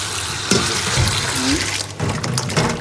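Water splashes and pours over frozen cut gourd pieces in a kitchen to thaw the ice, a close, steady gush with a few clattering knocks.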